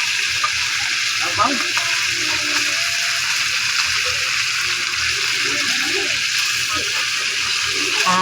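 Chicken adobo sizzles and splatters in a pan while it is stirred, a steady hiss with scraping under occasional faint voices.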